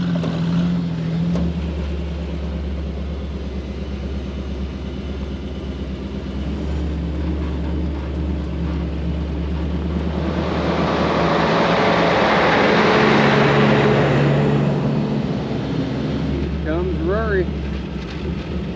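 An engine idles too high at around 2,000 RPM, a constant low drone heard through wind buffeting outdoors, swelling louder for a few seconds midway before settling back.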